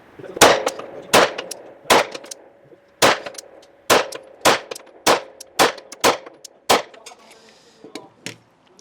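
A Glock 17 Gen 5 pistol fires about a dozen sharp shots at targets, each a crisp loud crack. The shots come in a fairly steady, quick rhythm, with short gaps and faint ringing between them.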